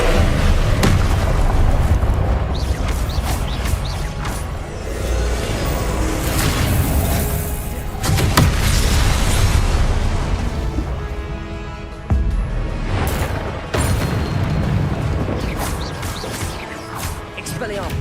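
Explosive Confringo spell blasts booming repeatedly in Hogwarts Legacy combat, loud dense bursts layered with crashes and game music, with a voice talking over parts of it.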